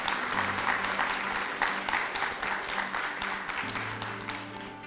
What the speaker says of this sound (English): I just wanted to give a round of applause to Maria Smith, my mom.